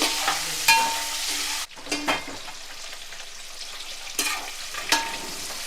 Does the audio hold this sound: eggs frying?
yes